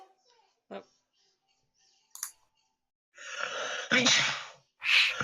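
A sharp sneeze bursts out near the end after a few faint sniffs and small breaths, loud and close.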